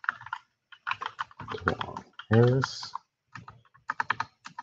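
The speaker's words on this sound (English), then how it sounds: "I'm going to type" Computer keyboard typing in bursts of quick clicks, close and fairly quiet, interleaved with a person speaking between keystrokes.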